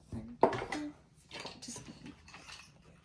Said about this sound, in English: And now we can stir it.